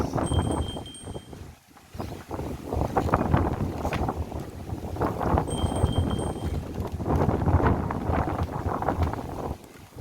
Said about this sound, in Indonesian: Anginnya luar biasa.